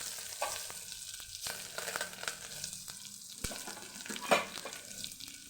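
Ridge gourd kootu base frying in a pan with crushed garlic and fresh curry leaves, a soft, close sizzle with uneven crackles and a sharper spit near the end, no voices.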